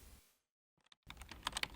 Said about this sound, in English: slammed the keyboard with each letter punched out.